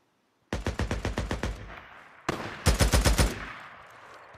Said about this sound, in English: Now they want to shoot back?